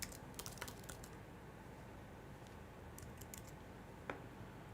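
Keys tapped on a computer keyboard in short clustered bursts of light clicks with brief pauses, close and fairly quiet over a steady low room hum, with no voices.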